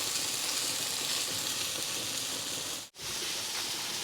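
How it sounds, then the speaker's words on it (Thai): Fish fries in a pan with butter and herbs, giving a steady, dense sizzle that stays loud and even, broken only by one very brief drop in sound near the end. "เราจะทอดเขาให้สุกนะคะ อีกด้านหนึ่งนะ"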